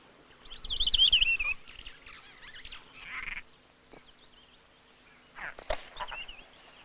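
Harsh, raspy calls of a broad-billed roller in a baobab tree in Africa, a loud rasping burst first, then scattered quieter chatter and another grating call near the end, with no speech.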